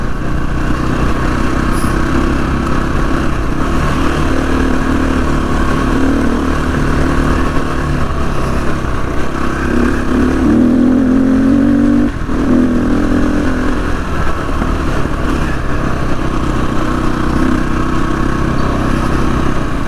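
An SWM RS500R motorcycle ridden along country roads, its engine droning loudly and continuously with shifting throttle and wind rush, and no voices.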